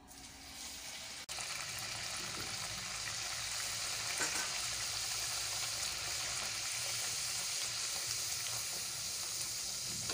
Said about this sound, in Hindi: ऑयल अच्छे से गर्म हो गया है और पूड़ी भी बेलकर तैयार कर ली है। अब इन्हें सेक लेते हैं।